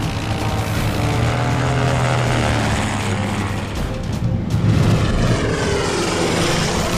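Rotary engine of a Fokker Dr.I triplane during a flat half spin. The propeller drone is steady and moderately loud, then shifts and swells briefly near the end as the plane turns.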